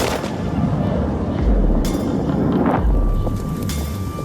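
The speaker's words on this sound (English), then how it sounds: "The engine roars to life, and with it, a gust erupts from the jet's tail." A jet engine roars to life at an aviation event, a loud, broad rumbling roar with gusting noise that swells in bursts and stays strong throughout.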